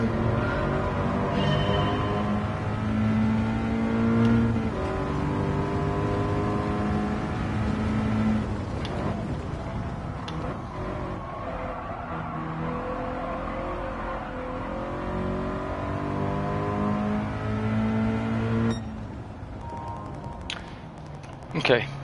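A race car in Gran Turismo 7 is driven with left-foot braking through puddles, its engine droning and revving continuously with rising and falling pitch through gear changes, loud and close, with a voice talking over it.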